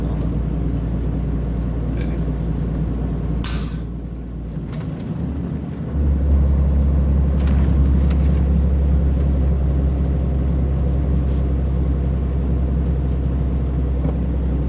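Volvo FH12 truck hauling a heavy load of wood chips, its engine holding a steady deep low drone throughout, with a brief gear-change break partway before the drone resumes louder and heavier.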